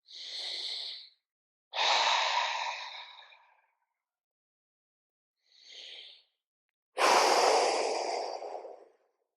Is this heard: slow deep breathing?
yes